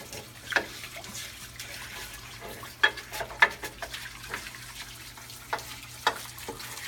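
Running water rinses emulsion off a blade, a steady soft splashing trickle broken by a few sharper spatters and drips, close by with no voices.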